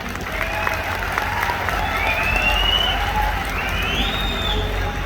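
A crowd at a network marketing business seminar claps steadily in a dense, continuous patter, fairly loud and close, with a few rising voices mixed in.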